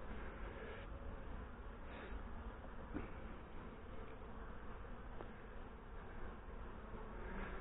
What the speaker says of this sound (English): There's a wasp trying to get in there now too.